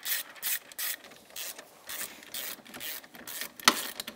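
Rapid ratchet clicking in bursts as a wrench backs out the 12 mm front brake caliper bolts, coated with blue Loctite, on a 2012 Honda TRX420 Rancher ATV, close and fairly loud with short pauses between runs.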